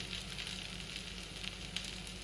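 Dosa roasting on a new cast-iron tawa over a gas flame: a steady, quiet sizzle with faint crackles and small pops, no one speaking.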